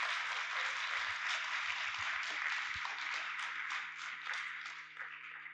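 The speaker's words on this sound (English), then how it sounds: "let's first give a round of applause for all of our finalists" An audience applauds finalists at a live research event, a sustained wash of clapping from a crowd over a low hum, gradually tapering off.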